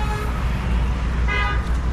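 Road traffic roars close by on a busy Indian street as vehicles pass. Loud horn honks sound twice, once early and again more strongly partway through, over a constant engine rumble.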